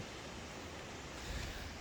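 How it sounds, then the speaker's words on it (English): Strong wind roars as a continuous, broad rushing noise buffeting the microphone, with a brief low gust near the end. "it's still actually being very windy right now"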